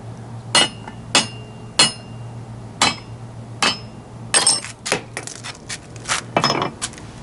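A hammer bangs down on a Honda locking wheel lug nut in a series of sharp, close metallic knocks, spaced irregularly at first and then crowding together into quicker clinking taps near the end.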